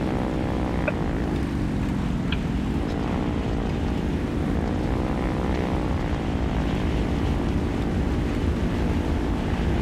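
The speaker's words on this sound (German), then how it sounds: "du scheiß Flugzeug da oben" A propeller airplane in the War Thunder video game drones overhead, a continuous loud engine hum whose pitch rises and falls slightly as it passes, with no talking.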